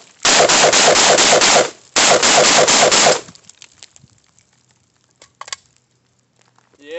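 An AK-47 fed from a 40-round KCI steel magazine fires two loud rapid bursts of automatic fire, the second following after a brief pause, and then falls to quiet with a few faint clinks.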